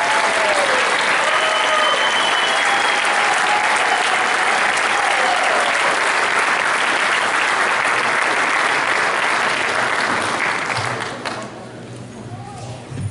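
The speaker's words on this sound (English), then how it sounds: "Let's give him one more big," Sustained, dense clapping from a banquet audience at a college football awards banquet honoring a player, holding strong for about eleven seconds before tapering off near the end.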